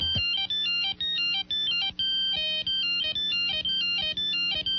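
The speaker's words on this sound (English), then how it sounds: "Hundreds of ringtones there for you to buy and download right to your Nokia 8260 or" A Nokia phone ringtone plays a bright, repeating electronic melody of short beeping notes in a regular rhythm, loud and close with no talking, advertised for the Nokia 8260 or 5165.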